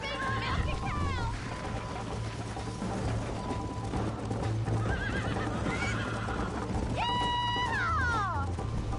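Horses whinny loudly over a steady rumble of galloping hooves in the video game Red Dead Redemption, with a second sharp neigh near the end, full and close.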